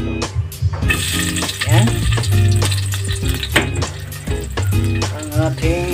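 Garlic frying in a pan for a chicken curry with pineapple, a loud steady sizzle with stirring scrapes and clinks, a short spoken word over it.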